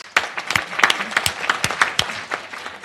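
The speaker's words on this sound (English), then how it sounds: "Let's pause for a bit to give each other a round of applause" Sparse applause from a small audience at a gender-equality gathering, a handful of distinct, fairly close hand claps rising and thinning over a few seconds.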